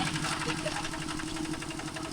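A walking tractor engine runs steadily close by at farm fields on a hill, a continuous rapid chugging rattle throughout with voices talking over it.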